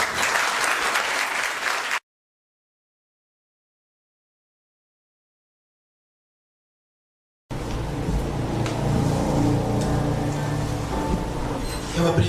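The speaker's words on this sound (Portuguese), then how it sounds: "todas as palmas a gente sempre direciona a Jesus" An audience applauds after a prayer at a spiritual lecture in Macaé, with a burst of clapping, a sudden stretch of total silence, then a second, fuller round of loud sustained applause.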